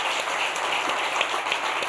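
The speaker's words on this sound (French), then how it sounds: "On l'applaudit pendant qu'elle arrive" An audience at a talk-show debate claps steadily for a young woman as she comes forward, a dense continuous patter of applause filling the short stretch without voices.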